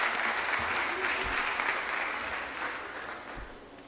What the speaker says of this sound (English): can we have another round of applause for Newark native